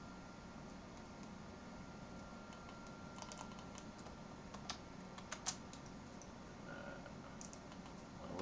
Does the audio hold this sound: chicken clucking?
no